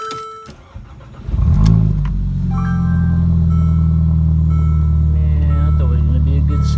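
A Mercedes CLA250 fitted with a new turbo intercooler cranks and starts with a sharp burst, then settles into a steady, loud, close idle drone that holds to the end.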